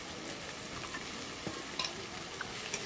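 Red chili and coriander powder are stirred into a frying pan for a matar paneer curry, giving a faint, steady sizzle with a few soft scrapes and taps of a spoon, and no voices.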